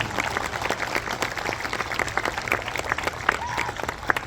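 Crowd at a Little League opening ceremony applauds its board members, a dense, steady patter of many hands clapping at moderate distance, with a little talk mixed in.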